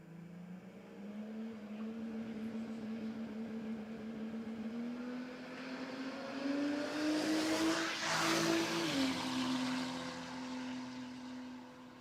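A Holden VN Commodore drag car makes a run at the Brisbane Jamboree, its engine droning loudly and steadily and rising in pitch through the gears, with a brief shift near the end. No one speaks over it.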